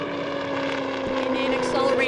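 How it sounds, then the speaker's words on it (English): A Sikorsky compound helicopter flies with its pusher propeller, giving a steady droning hum with a firm low tonal line, while a person talks over it. "you can see some maneuvering at low speed and operating without the pusher prop on and with it on"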